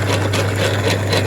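A restored Logan 210 lathe runs with its gears engaged, giving a loud, steady mechanical hum with a strong low drone and a light, even gear chatter, close by and with no talking.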